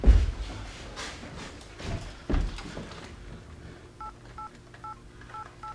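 Touch-tone telephone dialing: a handful of short, evenly spaced DTMF beeps follow a couple of soft thumps and handling noises in a quiet room.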